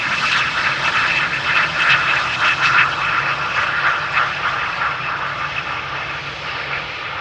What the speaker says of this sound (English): Is this a no reversal landing?